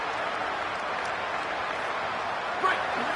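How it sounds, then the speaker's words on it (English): A home crowd at an American football game roars steadily as the defense tries for a third-down stop, a dense, even wall of cheering that swells slightly near the end. "Here comes this home crowd as the defense tries to get off the field on third down."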